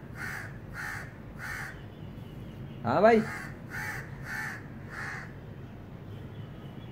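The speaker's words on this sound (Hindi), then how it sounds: "ये कौवा क्या कह रहा है?" A crow gives six loud, harsh caws in two groups of three, spaced evenly about half a second apart, with someone speaking briefly between the groups.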